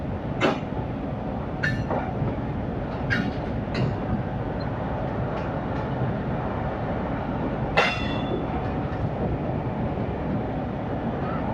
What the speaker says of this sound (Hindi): अब 6 साल के बाद यहाँ ट्रेन जा रही है